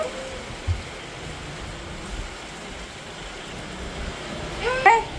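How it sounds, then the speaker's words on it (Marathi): Heavy early-season rain in Nagar pours down as a steady, even hiss, with a couple of faint knocks near the start and a small burst of sound toward the end. "खूप पाऊस येत आहे"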